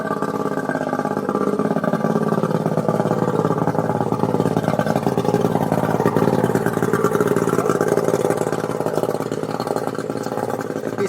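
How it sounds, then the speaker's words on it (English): An outboard boat motor runs while salt water is flushed out of it, making a loud, steady mechanical drone with a rapid clattering pulse. The sound holds close and unbroken for about eleven seconds. No one speaks. "He's flushing out the salt water from his outboard."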